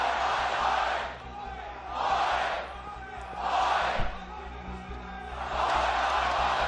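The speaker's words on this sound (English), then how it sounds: "And the crowd now a little bit more energy in case they didn't have enough before, Andrew." An esports arena crowd at the Overwatch World Cup cheers and roars in repeated swelling waves, loud and broad, with a caster's voice running beneath the noise.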